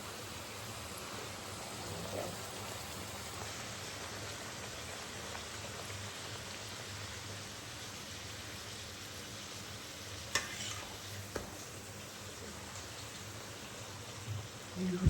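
Luchi frying in oil that is not quite hot enough, giving a steady, even sizzle with a soft crackle throughout and a few sharper pops near the end.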